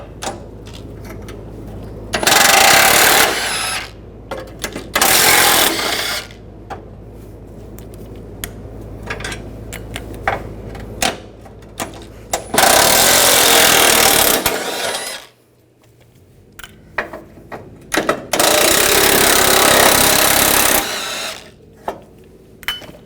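Ratchet and socket work on bumper bracket bolts of a 2004-2008 Ford F-150, with several loud bursts of rapid mechanical whirring, likely a power ratchet driving a 13mm socket, separated by quieter clinks and handling noise.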